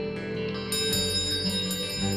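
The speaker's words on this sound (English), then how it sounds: "For thousands of people in desperate need, the sound of a Salvation Army bell is a song of hope." A Salvation Army charity kettle handbell rings continuously, its bright metallic tones overlapping and sustaining in a steady, close jangle.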